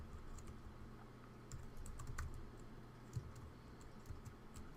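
Soft, continuous typing on a computer keyboard while writing code, with quick irregular key clicks at close range under a low background hum and no talking.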